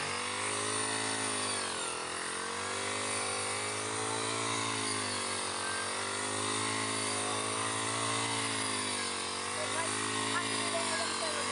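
A Honda 4-stroke grass cutter machine runs continuously in a field, a loud, close, steady engine whine with slight rises and dips in pitch as it works, and a voice talking faintly over it.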